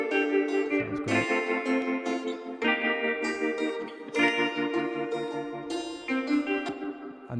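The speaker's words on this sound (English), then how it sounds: "Echo Boy's doing a lot of heavy lifting there, loads of delay, ping pong delay, tremolator." Indie folk song playback run through Echo Boy with heavy ping pong delay and tremolo, a loud, full mix of sustained chords and plucked notes that repeat and bounce with echoing, pulsing texture throughout.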